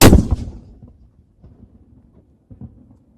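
A single ceremonial artillery gun fires in salute at a royal proclamation ceremony, one loud booming blast that rolls off into a fading rumble and distant echoes.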